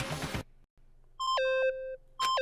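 Electronic beeping from the Danganronpa video game: a noisy burst, then a quiet pause, followed by a series of clear stepped tones that rise and fall, and a final short bleep at the end.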